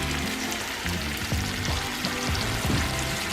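Asparagus sizzles steadily in a hot pan next to cooking steaks, giving a continuous, even frying hiss with faint clinks and stirring.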